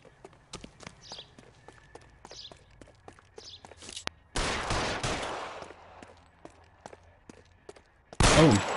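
Gunfire in the video game La Norie: sharp, evenly spaced shots crack over a low rumble, with two louder bursts of blasting noise partway through and at the very end.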